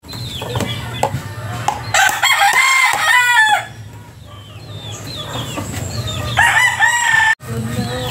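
Chickens raised for their health and kept in clean pens cluck steadily while a rooster crows loudly and close by, with layered bird calls filling the whole stretch and no talk.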